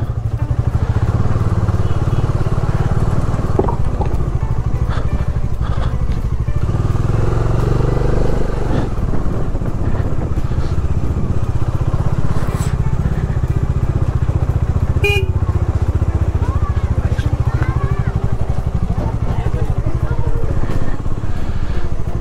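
A motorcycle rides through the old village of Marpha in Nepal, its engine droning steadily and close throughout, with clattering bumps and a brief horn toot along the way, while the rider talks intermittently.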